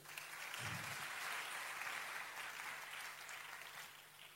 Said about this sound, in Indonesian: Kasih tepuk tangan sedikit boleh?